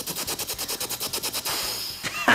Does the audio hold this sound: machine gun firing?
yes